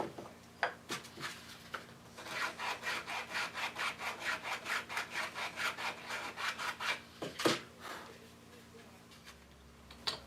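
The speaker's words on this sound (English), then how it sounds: "I can get inside here with the curved edge of the sandpaper block" Sandpaper block rubbed against a mahogany guitar body, a rapid run of rhythmic rasping back-and-forth strokes, close and steady, with a few knocks and pauses at the start and end.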